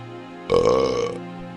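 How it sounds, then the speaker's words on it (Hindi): Cartoon crow giving a single loud, drawn-out burp lasting under a second, close and clear over a quiet musical background. "तभी गुड्डू जानबूझकर डकार देने लगता है।"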